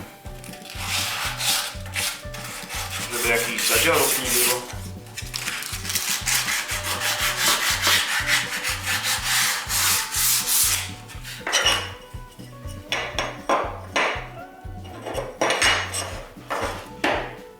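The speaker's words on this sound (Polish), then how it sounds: "No i jeszcze krawędzie papierem ściernym." Sandpaper rasps back and forth along the edge of an aluminium piece in quick repeated strokes, close up, with a brief spoken remark and a steady rhythmic beat underneath.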